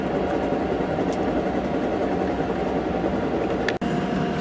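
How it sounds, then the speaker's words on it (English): Steady rumbling roar of a train rolling past close by, continuous and loud, with a faint rhythmic clatter and a brief break near the end. "You can actually see a little bit of the front of the train"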